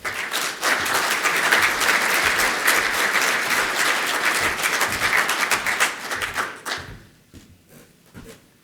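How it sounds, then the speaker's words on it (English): Conference audience at an industry event applauding a speaker, dense sustained clapping from a large room for several seconds before tapering off into a few scattered claps and quiet. "So can we give Neil a round of applause, please?"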